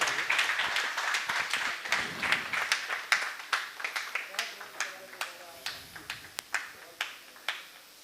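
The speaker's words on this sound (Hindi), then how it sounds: "जोरदार तालियां भी बजनी चाहिए।" A gathering of a Varanasi tourism guides' association claps to welcome a guest, beginning as a brief cluster of hands and quickly thinning into sparse, separate sharp claps spaced out at a moderate level.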